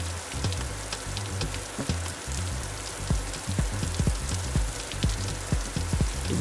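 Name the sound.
rain falling on a car during a storm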